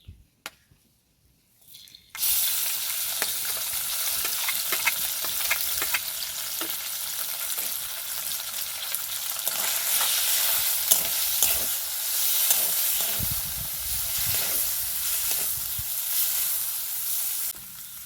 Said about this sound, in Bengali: এখন আমি ঘিয়ের মধ্যে মাছটাকে ভেজে নেব।